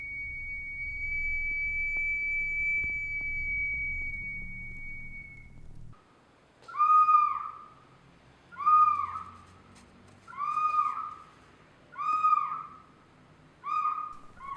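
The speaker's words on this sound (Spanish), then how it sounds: "la vasija silbadora de agua, que es un instrumento muy particular ya que funciona con la acción del agua" A water whistling vessel, a traditional ceramic wind instrument of the Americas that sounds by the action of water poured inside, gives five clear, evenly spaced whistling hoots after a steady held tone, alone and fairly close.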